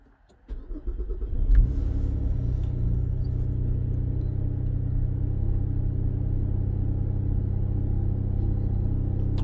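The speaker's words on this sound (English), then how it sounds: "Press the start stop button and start the engine." A 2010 Cadillac SRX engine starting after a key-fob reprogram, with a short crank and catch, a brief rev, then a steady, even idle rumble that continues to the end.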